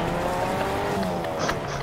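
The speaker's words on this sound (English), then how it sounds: "Hey, Fong, I've got a car if you want it" A car drives in the Fortnite video game, its engine droning steadily with a brief tire squeal near the end, fairly close and loud.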